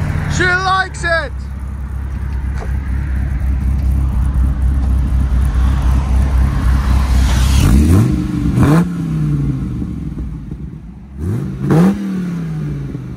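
A 2004 Dodge Ram SRT-10 pickup with an 8.3L V10 and Magnaflow exhaust idles with a deep, loud burble, then revs sharply twice with rising and falling roars, close by; a voice is briefly heard early on.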